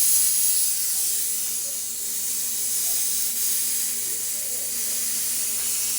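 A Coleman camping grill burner emits a steady, even hiss of escaping gas, continuous and alone for the whole stretch, at moderate level with no other sounds.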